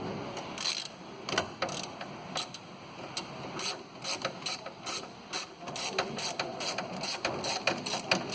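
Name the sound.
ratchet with long extension loosening car wheel hub bolts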